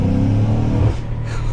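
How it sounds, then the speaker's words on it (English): BMW M5 F90 with a JB4 tune, its engine droning loud and close, the deep rumble easing and thinning near the end as the intake flutters. "intake fluttering, so that means it's doing something"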